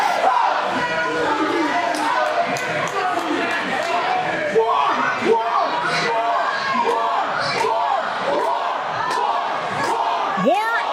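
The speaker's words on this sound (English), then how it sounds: "A war chant after your name is a bad sign." A hostile wrestling crowd at a live event in Phoenix roars with a loud, rhythmic war chant, sustained massed voices punctuated by thuds and slams throughout.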